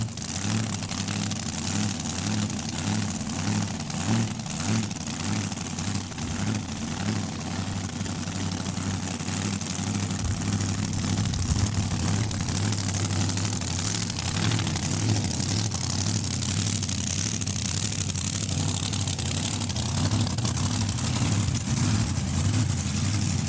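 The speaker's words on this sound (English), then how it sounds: "And that's Jeff Arpin warming up the rear tires." Jeff Arpin's drag racing car with a supercharged engine warms up its rear tires at Saskatchewan International Raceway in Saskatoon, a loud, sustained engine roar with steady droning harmonics and a slight swell midway.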